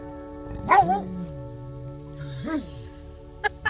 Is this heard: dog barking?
yes